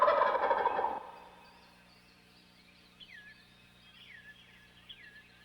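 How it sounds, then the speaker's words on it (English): A wild turkey gobbler gobbles loudly at the start with a rapid rattling burst. Several faint, thin bird calls follow over near silence in a spring woodland. "Spring is the mating season, when the wild gobbler's call thunders through the woods."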